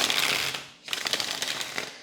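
Tarot cards are shuffled by hand in two quick bursts of rapid papery riffling, close and fairly quiet, with a short pause between them.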